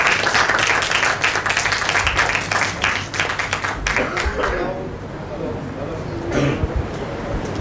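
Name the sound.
applause for Swamiji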